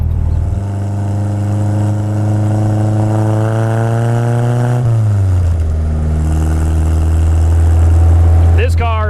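A 1961 MGA 1.8L Speedster, a period racer, drones steadily under way, its engine note holding then dropping as it shifts before settling again, loud and close throughout.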